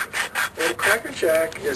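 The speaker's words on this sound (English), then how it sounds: "Using too coarse of a sandpaper" Coarse abrasive rubbing in repeated back-and-forth strokes as coarse sandpaper sands alternator slip rings, a gritty rasping sound up close with short pauses between passes.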